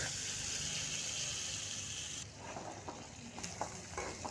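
Chickpeas and fenugreek seeds frying in hot oil in a wok, a steady loud sizzle that drops sharply partway through, then continues with crackling pops and stirring clicks.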